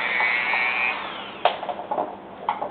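A small power drill whines steadily as it bores a little hole into a carved wooden hiker figure, then stops, followed by a few light knocks and handling sounds up close.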